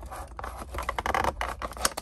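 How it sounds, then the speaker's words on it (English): Scissors snipping and scraping through retail packaging of a Disney Store Hot Rodin' diecast drag racer car, a quick run of close, crisp cuts with rustling plastic between them and no talking. "Thank goodness I brought scissors with me."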